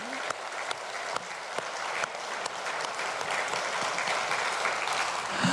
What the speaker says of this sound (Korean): 우리 한번 주님께 기대하며 영광의 박수를 드리십니다.